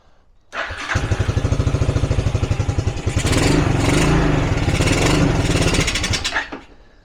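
A cold Suzuki LT300E ATV engine cranks with a rapid rhythmic starter chatter, then catches and runs roughly at a loud, rising rev before cutting off, no choke used.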